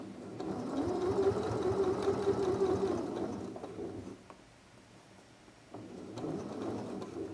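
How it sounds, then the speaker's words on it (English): A sewing machine stitches a seam with a close, steady mechanical whirr that runs for about four seconds, pauses into near quiet, then starts again briefly near the end. "And I am going to sew over the pin this time, but I'm going stitch by stitch"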